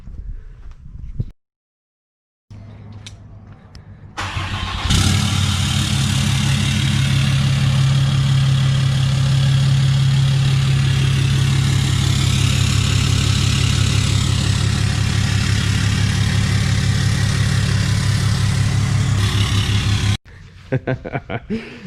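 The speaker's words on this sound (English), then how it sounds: "when I start it in the cold, it sounds exactly like a diesel truck" A Chevrolet Suburban with a cut exhaust, started cold: after a brief starter crank, it idles loud and rough for about fifteen seconds with a deep, diesel-like rumbling drone, then cuts off.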